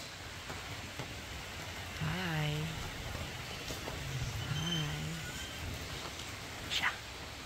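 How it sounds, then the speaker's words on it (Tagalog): Rain falls at Avilon Zoo as a storm approaches, a steady broadband hiss of drops filling the background while people talk and greet nearby. "Lumakas na yung ulan. Ito na yata yung bagyo."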